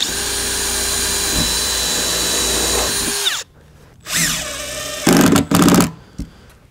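A power drill drives 2-inch screws through Skatelite surface into the framing of a skate box ramp: a long loud whining run that winds down, then several short sharp bursts of drilling close up.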